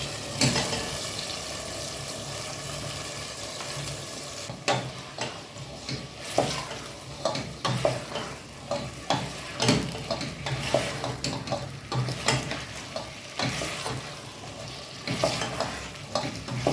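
Fillet and kidneys frying in a hot pan, a steady close sizzle under repeated stirring and scraping with a utensil, irregular knocks against the pan throughout.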